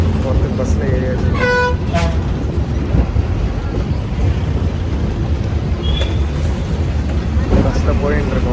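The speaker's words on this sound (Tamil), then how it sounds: "பெரியார் பஸ் ஸ்டாண்ட் போகிறதுக்கு பஸ்ஸில் ஏரியாச்சு." Inside a moving city bus in Madurai, a horn toots in short bursts near the start amid steady engine rumble and road noise, with further faint honks later and people talking throughout.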